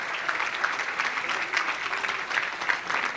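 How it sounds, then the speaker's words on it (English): An audience applauds a scholarship recipient at a county legends event, steady clapping throughout with no break, fairly close and moderately loud. "So let's have a round of applause for Olivia."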